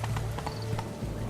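Horse galloping in The Witcher 3 video game, quick rhythmic hoofbeats close and moderately loud, without any talk.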